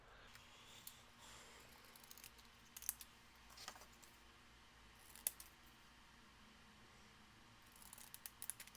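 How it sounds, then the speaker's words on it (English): Decal scissors cutting through a paper card, a quiet run of light snipping clicks at a low level, near and spaced irregularly, with no talk. "I think I'm going to cut it with my decal scissors"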